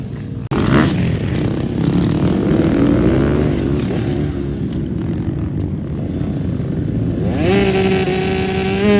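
Dirt bike engine revving steadily and loud at a motocross practice track, a continuous close buzzing with pitch shifts as the rider works the throttle, rising sharply near the end.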